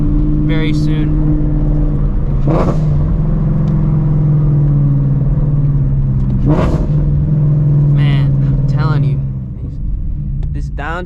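A Shelby GT350 Mustang's engine drones loud and low on a night drive, with brief blips and rev changes as it downshifts, while someone talks over it now and then.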